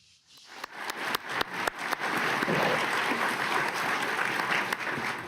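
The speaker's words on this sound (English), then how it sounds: "you could hear the applause all the way from Davos to the White House" A large audience at the World Economic Forum in Davos applauds after a presidential speech; scattered claps build within a second into dense, sustained applause that stays steady and fairly loud.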